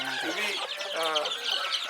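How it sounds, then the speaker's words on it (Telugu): Incubator-hatched chicken chicks clucking and peeping close by, a dense continuous chorus of overlapping high calls. "కోడి పిల్లలు అంటే ఇవి"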